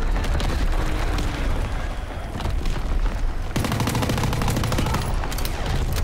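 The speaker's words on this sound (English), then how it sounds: "the explosions are real in this game. They shake your whole screen." Dense, continuous bursts of gunfire and booming explosions from Call of Duty WWII, loud and relentless, with rapid automatic fire crackling over deep blasts.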